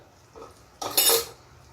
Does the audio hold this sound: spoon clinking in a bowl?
yes